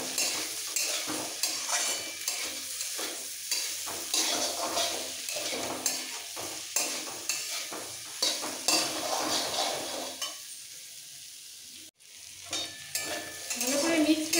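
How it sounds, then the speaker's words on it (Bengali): Potato masala with turmeric stirred and fried in a pan, continuous sizzling with repeated scraping strokes of a utensil at a steady rhythm, moderately quiet, no talk. "এবার একসাথে খুব ভালো করে কষাবো। আলুটাও ভাজা হয়ে যাবে।"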